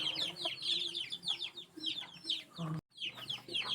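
Many chicks peep and cheep loudly and continuously in the afternoon, calling for the mother hen, a dense chorus of high calls with some lower clucking, briefly cut off near the end.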